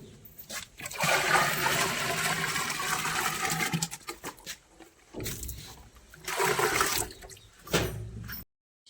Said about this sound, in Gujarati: ઓગળી જાય છે તેને પણ આપણે બેરલમાં નાખી દઈએ